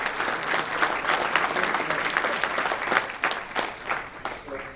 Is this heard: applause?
yes